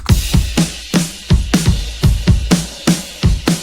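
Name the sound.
acoustic drum loop with kick, snare, ride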